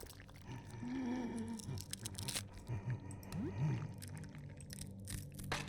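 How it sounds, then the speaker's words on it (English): Wet crunching and squishing from the video game Look Outside, irregular bursts of biting and tearing, fairly faint, with low tonal sounds mixed in. "I hate that crunching sound you can hear."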